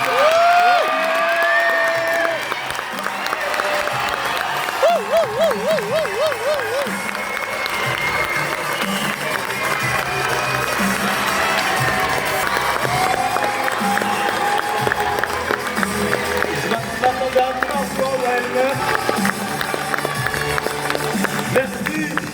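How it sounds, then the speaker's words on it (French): A theatre audience rises to applaud the performers, a loud, sustained wash of clapping and crowd noise with cheering, while an amplified voice carries on over it. "levez-vous, applaudissez celles et ceux qui ont"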